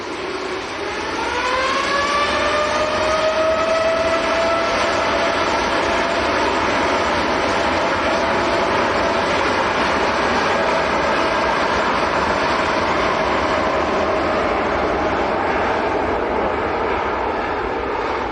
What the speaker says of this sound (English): here comes the A380. I'm not going to miss this one. Lining up behind.